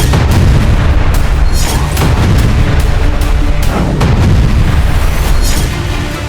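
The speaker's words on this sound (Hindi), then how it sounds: "हमास के लड़ाकों को नाजी बताकर इजरायली सेना गाजा पर लगातार मिसाइलें बरसा रही है।" Missile strikes and explosions in Gaza: repeated heavy booms and blasts thud one after another across the stretch, loud and close with crackling bursts between them.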